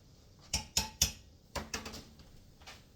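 A big spoon knocks and scrapes against a cooking pot while flour is stirred in for beef short ribs, giving three sharp close clinks followed by several softer taps, with no voices.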